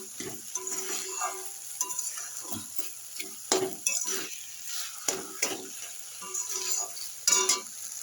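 Cabbage stir-fried in a pan with sauce, a spatula scraping and clattering against the pan over a soft sizzle, in irregular close strokes with no talking.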